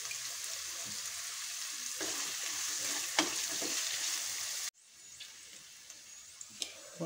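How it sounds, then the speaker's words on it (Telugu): Onions sizzling and frying steadily with salt in a pan, a continuous broadband hiss with occasional stirring clicks, close and moderately loud, briefly dropping in level near the end. "వండి బాగా వేగాయి కదా, ఉల్లిపాయలు బాగా వేగాయి."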